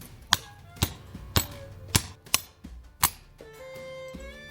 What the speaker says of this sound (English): Then you can take your hammer, hammer it in.